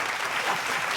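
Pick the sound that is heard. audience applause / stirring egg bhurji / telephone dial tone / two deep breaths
audience applause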